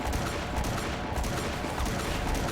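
Dense, continuous rapid gunfire from the Avatar video game as an enemy is shot down, loud and close with overlapping shots and no pauses across the whole stretch.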